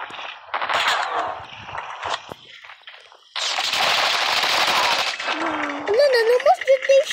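Rapid automatic gunfire from a Call of Duty match, loud bursts with quieter gaps between them, ending in a rising tonal whine over continued shooting.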